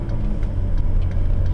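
A car pulling away from the kerb gives a low, steady engine rumble close by, even and continuous with no voices.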